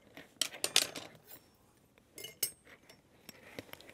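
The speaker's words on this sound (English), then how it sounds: "So out goes the ice." Ice cubes are dumped from a cocktail glass, clinking and rattling against the glass in a couple of quick bursts, close up and fairly quiet, with small scattered taps between.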